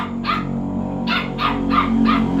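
A puppy barks in a rapid series of short, sharp yaps, five bursts in quick succession, close and loud over a steady background hum.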